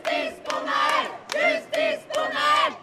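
Crowd at a street protest in France chanting in unison: four loud, rhythmic shouted phrases with short pauses between them, close and forceful, with no other sounds around them.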